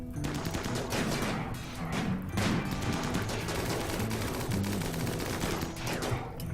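Sustained gunfire in the RimWorld colony game, sniper rifles and other weapons firing in a battle against an attacker with an inferno cannon, with dense rapid bursts of shots throughout, loud and continuous with no talk.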